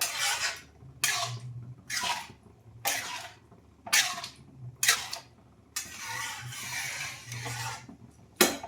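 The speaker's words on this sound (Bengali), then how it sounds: "এবারে আমি এটা নেড়ে দিলাম।" A utensil scrapes and stirs dried fenugreek leaves (kasuri methi) in a pan, with about eight short, rasping strokes in an even rhythm, close and fairly quiet.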